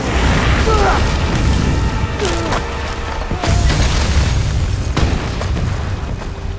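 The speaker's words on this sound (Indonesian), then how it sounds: "Sebuah ledakan yang mengempaskan tubuh Victor" A deep boom bursts out amid a rumbling, crackling din, followed by further sharp pops and debris-like crashes over sustained low noise.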